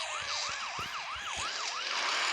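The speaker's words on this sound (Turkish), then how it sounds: "polis geliyor. Dadi dadi dadi polis emri geldi." Wailing police siren in the mobile driving game Car Parking, rising and falling in quick regular sweeps over a steady game noise hum, fairly faint.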